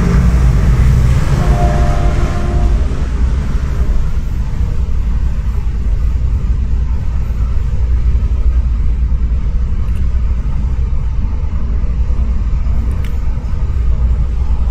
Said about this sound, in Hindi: आप सुन पा रहे होंगे रेल की आवाज़ है,